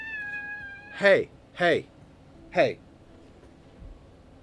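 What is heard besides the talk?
cat meowing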